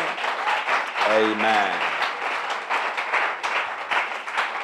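A church camp congregation clapping hands together in steady, dense applause, with a voice speaking and calling out over the crowd.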